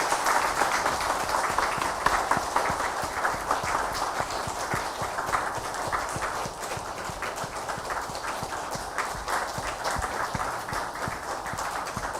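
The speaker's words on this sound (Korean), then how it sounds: "박수로 축하해 주시기 바랍니다" Congregation applause during a Sunday university church service, sustained rhythmic clapping from many hands that holds steady for over twelve seconds at moderate distance.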